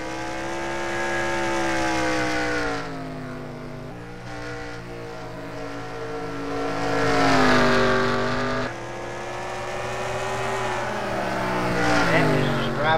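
Race cars racing at Bristol, engines droning loudly and continuously with rising and falling pitch as they pass, several cars overlapping, under commentary.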